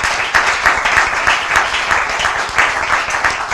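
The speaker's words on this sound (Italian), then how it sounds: "fatemi un applauso, tiratevi su di morale" A studio audience at a TV show finale claps loudly and continuously, a thick, even wash of applause with no pauses and no one talking.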